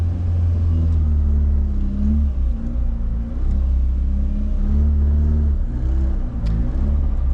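An AE86 driven along back roads, with a low steady engine rumble and road noise throughout, gentle rises as it accelerates, close and continuous inside the car.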